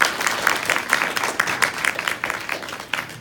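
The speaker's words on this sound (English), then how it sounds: "Give them a big round of applause." Audience applause for three children who answered every quiz question correctly, at a Hindu mythology and Mahabharata quiz event. The clapping is dense and steady, with no voices over it, and holds for about three seconds.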